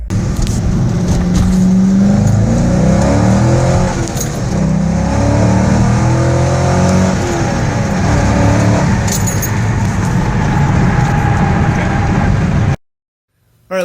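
A Chevrolet Corvette C5 fitted with an exhaust bypass mod drives along, its engine droning loudly and steadily with shifting pitch as it accelerates, close up, then cutting off abruptly near the end.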